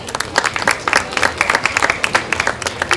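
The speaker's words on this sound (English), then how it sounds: "Let's give them all a big round of applause." An audience at a farm show applauds during a grade-division judging, a steady patter of many hands clapping with scattered louder claps throughout.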